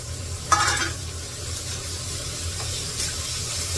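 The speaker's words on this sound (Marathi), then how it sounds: "कांदा थोडासा परतून घेते, नंतर कोथिंबीर टाकते" Onion sautéing in oil in a pan, a continuous close sizzle and hiss with a brief stir-scrape burst early on and another faint one later.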